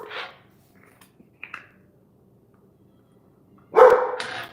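An indoor dog gives a couple of short barks, one at the start and a louder, closer one near the end, with faint yips in between and quiet room tone otherwise.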